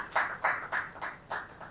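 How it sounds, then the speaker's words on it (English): Audience clapping for a speaker at a welcome address, a handful of distinct, fairly sparse claps spaced roughly a quarter second apart, moderately close and without any talk. "I think he's deserving of a round of applause"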